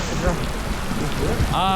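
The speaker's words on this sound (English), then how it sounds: "Yes, it's raining." Steady hiss of rain pouring down, with faint voices murmuring underneath and a brief higher tone near the end.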